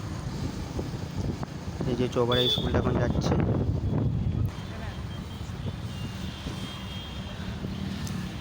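Motorcycle riding along a village road, its engine hum steady and mixed with wind rush on the microphone throughout, while someone speaks over it for a few seconds midway.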